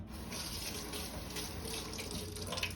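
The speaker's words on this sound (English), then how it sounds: "So we're going to wash off the thyme." Tap water runs steadily into a kitchen sink while fresh thyme is rinsed, a continuous close splashing hiss lasting the whole moment with no talking.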